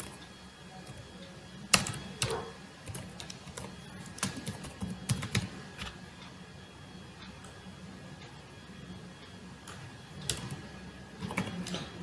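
Keys clack on a computer keyboard as numbers are typed, a scattered run of quiet, close taps with irregular pauses over a faint steady hum.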